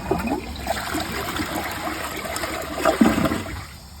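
A Niagara Stealth toilet flushes nearby, a rushing swirl of water that builds, surges briefly, then drains and fades to a quieter trickle.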